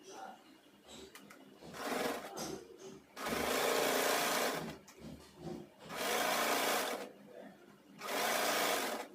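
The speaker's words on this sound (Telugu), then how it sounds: "కాల్ ఇంచ్ అయితే ఫోల్డ్ చేసుకొని ఒక స్టిచ్ వేసుకోవాలి." A sewing machine stitches folded fabric strips for a skirt, running in several loud, close bursts separated by brief pauses and quieter handling of the cloth.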